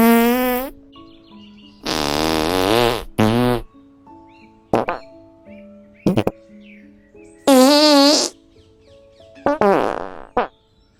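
Cartoonish fart sound effects, several separate bursts of varying length, some long and warbling, others short and sharp, loud and close with silent gaps between them.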